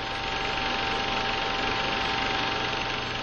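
AQ-2A1 16mm film projector running with a broken take-up felt, its take-up reel wound by hand; a steady, even mechanical whir and motor hum with a constant tone throughout.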